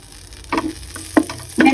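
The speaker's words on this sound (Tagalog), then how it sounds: "Maglagay tayo ng 3 tablespoon ng butter sa ating pan." Butter melting in a pan for tuna and tofu sisig, with short crackling sizzle bursts in three clusters, close and fairly soft with quiet gaps between them.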